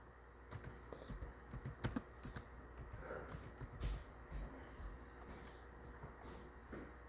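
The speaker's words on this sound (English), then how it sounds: "So I'm just gonna type up something real quick." Typing on a computer keyboard, quiet close key clicks in irregular bursts with short pauses, alone without speech.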